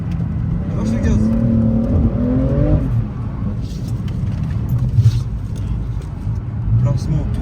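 A BMW G80 engine revs hard while drifting, rising and falling through throttle blips and sustained wide-open pulls, loud and close with a continuous roar under speech.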